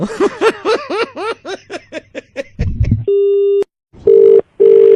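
A telephone sounds a steady electronic ring in three long tones separated by short gaps, following a burst of laughter and chatter.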